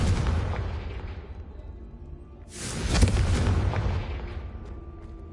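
A Confringo spell explosion in the Hogwarts Legacy video game erupts as one loud, broad blast midway through, with a rumbling tail that fades over a couple of seconds, following a steady rumbling background.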